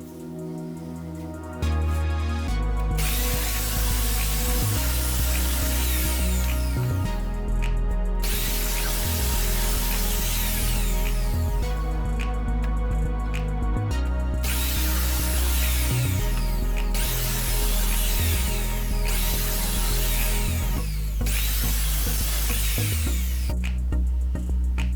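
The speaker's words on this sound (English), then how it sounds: "stick it onto the chop saw and take off the sides and perhaps the corners" A chop saw cuts the sides and corners off a wood blank in repeated bursts: a motor whines up, a loud rasping cut follows, then it spins down, several times in a row, close and loud.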